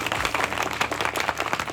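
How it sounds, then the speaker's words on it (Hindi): Brief burst of crowd clapping at a centenary celebration, a dense patter of hands at moderate volume lasting under two seconds. "एक बार उनके सम्मान में आगे से पीछे तक तालियां"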